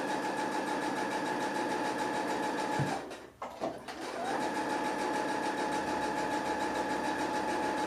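A sewing machine stitches a table runner made from handkerchiefs, running in a steady, fast whir, stopping briefly midway, then starting again and continuing at an even pace, with no one talking.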